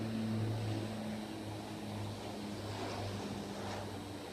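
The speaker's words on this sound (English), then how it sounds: "We're gonna wait for this airplane to fly across before we continue here." An airplane passing overhead outdoors, a steady broad drone with low engine hum, distant and continuous throughout with no talking.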